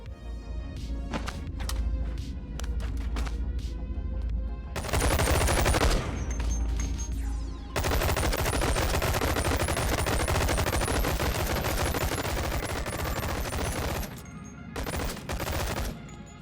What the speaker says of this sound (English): also link multiple weapons to shoot at the same time